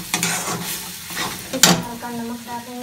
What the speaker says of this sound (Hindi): अभी उसे अच्छी तरह चला चला के भून लेंगे